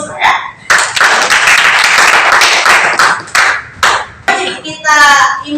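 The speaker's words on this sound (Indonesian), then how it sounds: "Kemudian kelompok 4 juga kita kasih aplaus" A class in an Indonesian religion lesson claps for group 4: sustained, close applause in several bursts with short pauses, and children's voices mixed in.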